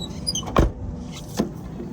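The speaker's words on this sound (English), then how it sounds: "So besides it being squeaky, it actually shuts pretty well." The door of a 2000 GMC Sierra regular cab pickup truck squeaks and shuts, giving a sharp close thud followed by a second fainter knock, close by with no talking.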